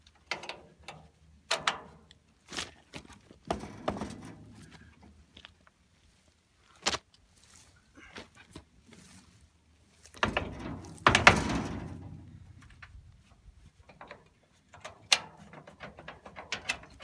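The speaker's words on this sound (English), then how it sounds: "we're going to lube up the raising mechanism on the trailer, and that works pretty good" Raising mechanism on a mobile outhouse trailer working in scattered mechanical clunks, ratcheting clicks and thumps, with one longer grinding stretch midway, close and moderately loud.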